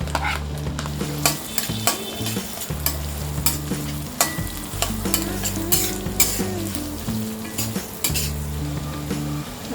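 Finely chopped onion and green chilies sizzle steadily in oil on a tawa for street-style masala pav, with a spatula stirring and clinking against the pan throughout, close and continuous.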